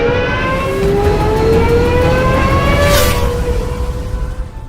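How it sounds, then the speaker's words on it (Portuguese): Gordon Murray T.50 engine howling at high revs like a 1990s Formula 1 car, a loud continuous roar whose tones climb steadily, heard alone with no voices. "aparece o ronco de carro que realmente parece um Fórmula 1 da década de 90"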